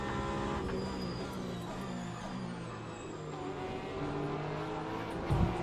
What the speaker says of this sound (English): The RSR sounds good though.